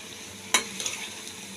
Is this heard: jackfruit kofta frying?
yes